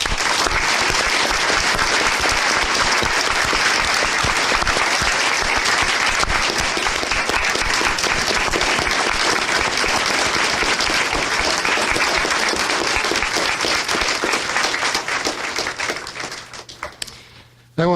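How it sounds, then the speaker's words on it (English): A university fall academic convocation audience gives a loud, dense round of applause for newly named emeriti faculty, sustained and unbroken for many seconds before thinning and cutting off at the end. "let's give our new emeriti faculty one other round of applause"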